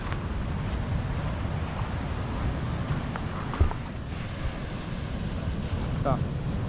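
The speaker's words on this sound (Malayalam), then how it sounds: "ഒരു രക്ഷയില്ലാത്ത രീതിയിൽ കടൽ ഇങ്ങനെ കയറിക്കൊണ്ടിരിക്കുക" Sea surges onto a coastline where houses and coconut palms stand, a continuous roaring wash of waves mixed with heavy wind buffeting, while someone talks faintly over it.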